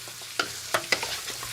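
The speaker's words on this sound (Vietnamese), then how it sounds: "Bước xào này sẽ giúp cho đuôi bò thấm và thơm hơn." Beef oxtail stir-fried in a pan with seasonings, a steady close sizzle broken by a few sharp scrapes and clinks of a utensil tossing the meat, with no voices.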